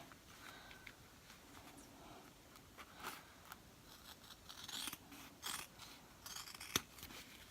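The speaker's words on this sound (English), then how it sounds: "So I'm going to cut this vinyl off real quick." Scissors trimming vinyl away from the fabric of a lined zipper bag, a series of quiet, close crisp snips and crunches, spaced irregularly and growing a little sharper toward the end.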